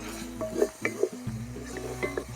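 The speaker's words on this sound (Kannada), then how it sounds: "ಅದಕ್ಕೆ ಶುಂಠಿ ಬೆಳ್ಳುಳ್ಳಿ ಪೇಸ್ಟ್ 2 ಸ್ಪೂನ್ ಹಾಕ್ಕೊಳ್ತಾ ಇದ್ದೀನಿ. ಈ ಹಸಿ ಸ್ಮೆಲ್ ಹೋಗೋವರೆಗೂ ಚೆನ್ನಾಗಿ ಹುರ್ಕೊಳ್ಬೇಕು." Ginger garlic paste, two spoonfuls, fries in a hot pan for a mutton liver dish while a spoon stirs it, giving steady sizzling broken by several close scraping strokes against the pan.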